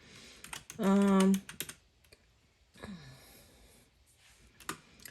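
Scattered clicks of typing on a computer keyboard come in short bursts, with a brief hummed vocal sound and a quiet sigh between them.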